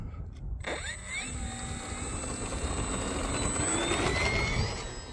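An Arrows Bearcat RC model warbird's electric motor spools up on a runway, its rising whine building steadily and loudly as the plane takes off, with faint outdoor background noise.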